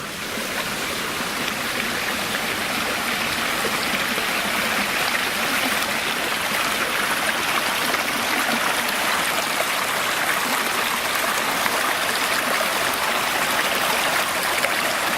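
Steady flowing stream at an old mine site, a continuous broadband rush and gurgle of water running close by without pause, no voices over it.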